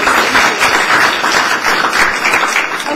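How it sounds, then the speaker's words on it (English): A school board meeting audience gives a steady, sustained round of applause, many hands clapping together at close range for the full stretch with no break. "Let's give her one more round of applause."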